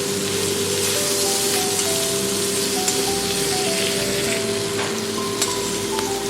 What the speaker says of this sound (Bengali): এবারে দিয়ে দেবো একটা বড় সাইজের টমেটো। ভালো করে আমি টমেটো ফ্রাইয়ের সঙ্গে মিশিয়ে নেব।